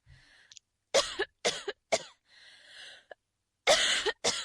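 A female avatar in the Second Life game coughs in a series of sharp, close bursts separated by short pauses and quiet breaths, with no talking.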